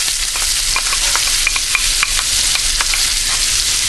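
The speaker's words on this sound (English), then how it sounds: "into our bacon fat. Oh, there it goes." Vidalia onion dropped into hot bacon fat for hot German potato salad, producing a loud, dense, unbroken sizzle up close, dotted with small crackles and stirring clicks.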